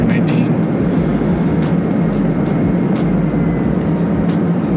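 Thrust reversers roaring on a Delta Airbus A319 during landing, a loud, steady, broadband rush with low rumble heard from inside the cabin, continuous across the whole stretch.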